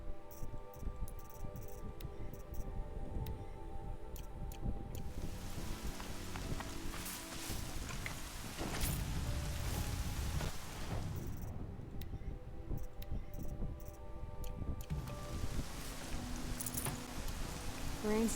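Steady rain falls in Horizon Zero Dawn, a dense wide hiss washing over the whole scene with swells and dips, mixed with game ambience and faint background tones.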